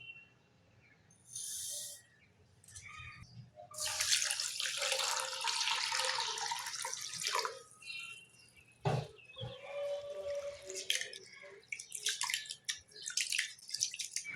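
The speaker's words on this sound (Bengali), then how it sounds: "এবার চাল এবং ডালটা পরিষ্কার করে ধুয়ে নিতে হবে।" Rice and lentils washed by hand in water, with splashing, swishing and pouring in uneven bursts and drips between them, close and fairly loud, with no one talking.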